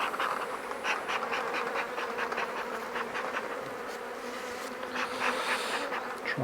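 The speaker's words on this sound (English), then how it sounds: "Try and get rid of as many bees off the top so we don't crush too many." Honeybees buzz steadily around a nuc hive box during an Apivar treatment, a dense close drone with individual insects rising and passing near, no talk.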